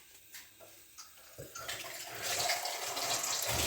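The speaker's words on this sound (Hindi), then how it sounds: "3 कप इसमें पानी डाल दें।" Water is poured into a pot to make Kashmiri pink tea, starting as faint trickles and swelling into a steady, rushing pour that fills the last seconds.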